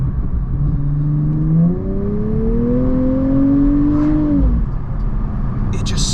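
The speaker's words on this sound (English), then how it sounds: "Nissan knows how to dial in their V6 noises" A Nissan V6 engine revs up through the gears, its rising whine climbing steadily and loudly before dropping off, heard from inside the cabin.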